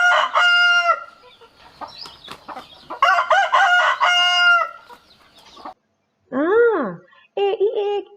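A rooster crows loudly and close, with repeated long calls and clucking, alternating with someone talking in Thai and a voice imitating the crow.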